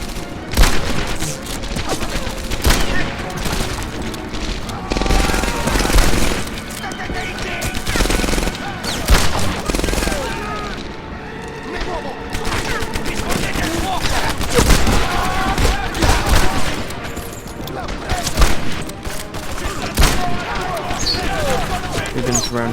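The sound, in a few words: gunfire in a shooter video game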